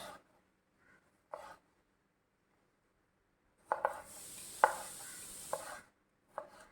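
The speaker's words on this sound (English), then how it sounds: "Now I will show how to cut tomato. Tomato you need to cut lengthwise." A knife slices lengthwise through a washed, seeded tomato on a board, giving a few soft, separate cuts and taps with a longer scraping stretch near the end, close and fairly quiet.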